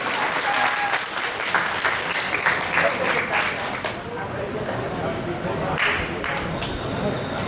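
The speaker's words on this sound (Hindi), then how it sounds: "एक बार सारे लोग जोर से तालियां बजा दीजिए डॉक्टर पीसी शाही के लिए" Loud, sustained audience applause at a badminton championship ceremony in Gorakhpur, a dense steady wash of many hands clapping with crowd murmur mixed in.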